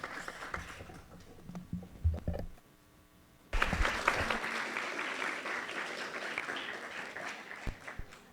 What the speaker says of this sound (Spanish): Le damos la bienvenida con un fuerte aplauso a Gustavo Adolfo Carbonell